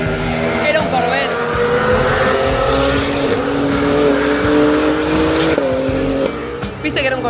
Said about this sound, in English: ¿Viste que era un Corvette?